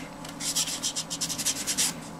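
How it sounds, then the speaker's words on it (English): Sandpaper rubs over a plastic T-62 model tank part in quick, rhythmic back-and-forth strokes, a close, raspy scratching that pulses about a dozen times with no talking. "just gonna give a quick one over with the sandpaper"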